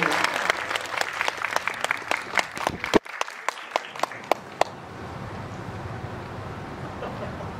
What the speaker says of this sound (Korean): 박수로 맞이해 주시죠.